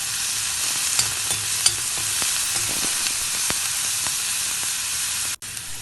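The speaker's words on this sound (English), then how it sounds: "Fry till the onions become translucent." Onions and green chilli frying in a pan over medium heat, a steady close sizzle with small pops and crackles and occasional stirring clinks, cutting off abruptly near the end.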